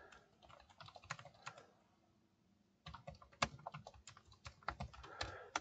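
Typing on a computer keyboard while writing a note in a code editor: bursts of light, rapid key clicks close to the mic, with a short pause in the middle and no talking.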